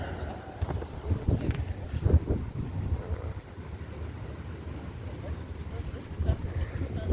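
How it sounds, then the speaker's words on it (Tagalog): Steady wind rushes and buffets the microphone in loud, low gusts by the sea, with a constant roar and occasional stronger blasts, no voices. "Ito yung dagat dilim, lakas ang hangin mga bay."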